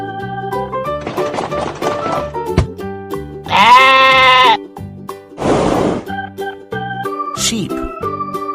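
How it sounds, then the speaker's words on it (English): Sheep bleating in a farm animal guessing game for kids, two loud wavering bleats standing out over a light musical backing with chiming tones. "Sheep."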